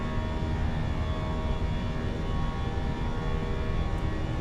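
Cockpit sound of a Fenix A320 airliner cruising in a flight simulator game, a steady, loud, unbroken engine and airflow drone with faint tonal hums and no voices.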